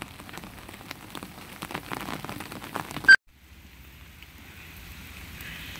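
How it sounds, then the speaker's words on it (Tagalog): Rain pattering on an umbrella on a rainy afternoon, a steady close patter with a sharp clack midway, then a softer, quieter shower of drops continuing to the end. "Maulan na afternoon mga tiyay."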